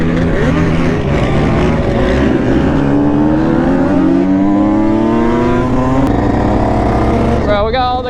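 Small engines of mini bikes and quads riding on sandy ground hum and rev steadily throughout, with shifting pitch as they pass nearby, and a higher whine rising briefly near the end.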